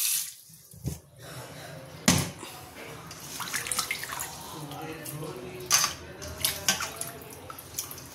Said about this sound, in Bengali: চলো মাছ কটাকে আগে ধুয়ে নিই ভালো করে